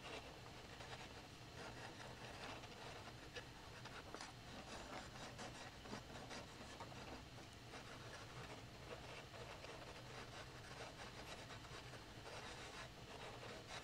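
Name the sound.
Japanese rasp carving a roasted maple guitar neck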